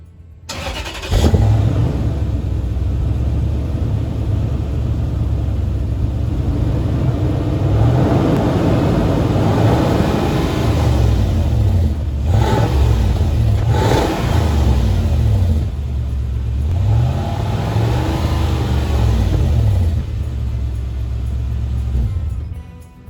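A car engine fitted with a DC Sports chrome bolt-on tailpipe extension starts and idles loudly up close, then revs repeatedly in a few rising surges before settling back to a deep, steady rumble.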